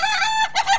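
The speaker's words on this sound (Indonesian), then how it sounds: "Inilah namanya ayam ketawa." An ayam ketawa, the laughing chicken breed of South Sulawesi, crows in a short burst of two quick, bright, cackling notes, close and clear with nothing else audible.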